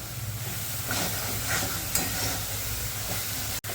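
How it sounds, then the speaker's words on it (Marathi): Masala for a village-style chickpea curry sautéed in a pan, a soft continuous sizzle with light scraping stirs every second or so, close but fairly quiet. "परतून घ्यायचं चांगलं खाली लागू नये म्हणून सा सारखं हलवायचं असं"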